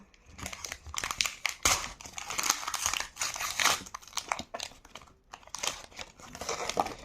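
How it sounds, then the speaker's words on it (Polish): A foil wrapper on a pack of football trading cards is torn and crinkled open up close, with bursts of crackling rustle and short pauses as the cards are pulled out. "Teraz otwieramy drugą paczkę."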